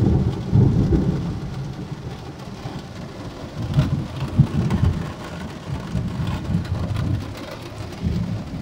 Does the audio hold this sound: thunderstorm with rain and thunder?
yes